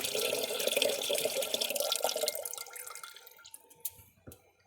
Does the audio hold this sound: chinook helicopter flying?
no